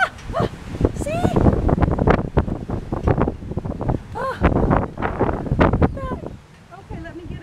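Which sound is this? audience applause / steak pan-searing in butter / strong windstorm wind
strong windstorm wind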